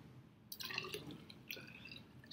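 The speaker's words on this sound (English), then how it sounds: "Then fill this thing up with water" Water poured into an empty 100 ml graduated cylinder makes faint splashing and trickling sounds in two short bursts, quiet and close with no talking.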